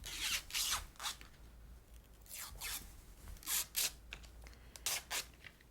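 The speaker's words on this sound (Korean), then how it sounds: "도안을 정했으면 아크릴 판의 비닐을 벗긴 다음에" Protective vinyl film being peeled off an acrylic plate for a DIY craft, heard as a series of short, crisp tearing and crackling rips in uneven bursts, close and fairly quiet with no talking.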